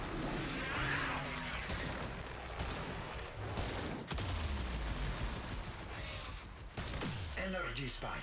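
The Kuva Chakkhurr gun fires heavy, booming shots in Warframe amid a dense, continuous wash of loud combat noise, with a voice talking over it.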